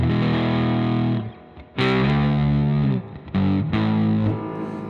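Heavily fuzzed electric guitar chords through a Tony D Classic 70's Fuzz pedal, struck several times with short gaps between them, each thick and buzzing before being cut off.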